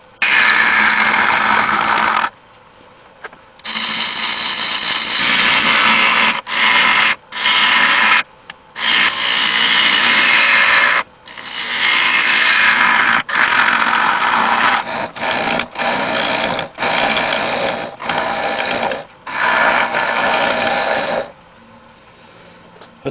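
A yew box being hollowed on a wood lathe, a loud rough scraping hiss of the tool cutting and throwing shavings, in repeated bursts separated by short pauses.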